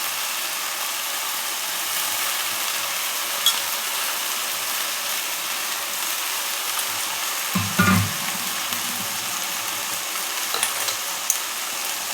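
Chopped fenugreek leaves (methi) frying in oil for a rustic Maharashtrian curry, a steady soft sizzle throughout with a brief louder stir or scrape near the middle and faint clinks.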